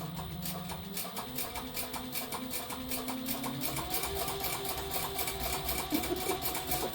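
A sewing machine runs steadily while stitching a handbag strap, its rapid mechanical stitching clatter and motor hum continuous and close throughout, with no talk.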